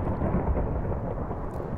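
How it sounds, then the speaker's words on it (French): Thunderstorm in the Minecraft video game, a loud, continuous low rumble of thunder with rain noise rolling underneath, with no voices over it. "Ça y est, c'est fini l'orage?"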